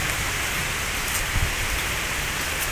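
Steady, dense rain falls and patters on surfaces near a garage during work on a Chrysler 200 coilover suspension, a continuous even hiss with no talk.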